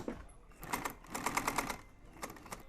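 A sewing machine stitches red thread into the diamond pattern of a Craftsman lawn tractor seat's upholstery, running in short, fairly quiet bursts of rapid needle clatter with brief pauses between.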